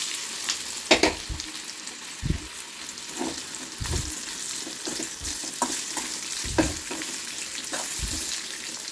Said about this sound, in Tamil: இப்போ நம்ம எண்ணெய் ஊற்றி மிளகாப்பொடியெல்லாம் போட்டு வச்சுருக்க வாழைக்காயை இதில் சேர்த்துக்குவோம்.